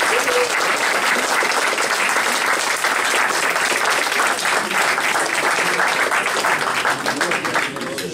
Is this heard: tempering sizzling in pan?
no